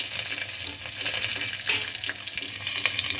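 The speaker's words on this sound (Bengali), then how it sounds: "একটু হালকা নেড়ে চেড়ে আমি এগুলো ভেজে নিচ্ছি" Cardamom, cinnamon, bay leaf, two kinds of nuts, raisins and grated old coconut fry together in a pan, a continuous close sizzle broken by light stirring scrapes and clinks.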